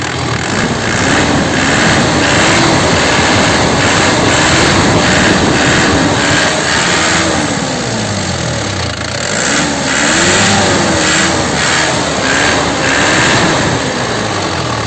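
A 2010 Isuzu Panther LS Turbo diesel engine revs repeatedly, loud and close, its pitch rising and falling in several throttle blips over a steady idle rumble.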